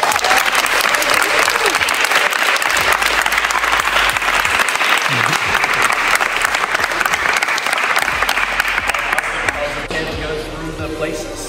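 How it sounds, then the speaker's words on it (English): A large audience applauds the coaches at a school badminton championship in a gym, steady loud clapping filling the hall for over ten seconds with crowd noise and a brief voice mixed in. "give your coaches a round of applause right now"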